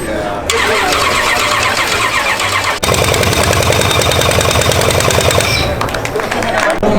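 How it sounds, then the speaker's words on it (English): Car engine just assembled by a student team in a timed technicians' build-off at a Calgary car show, cranking and firing into a loud, rapid, rattling idle, with crowd noise and speech around it. "they put together that engine and fired it up in 8 minutes and 53 seconds"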